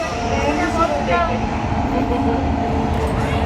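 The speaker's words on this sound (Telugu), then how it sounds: "ఇక్కడైతే గూడ్స్ ట్రైన్ అయితే వెళ్తుంది" A goods train, apparently hauling coal, rumbles past at close range as a steady, dense roar of wheels and wagons, with a voice talking over it.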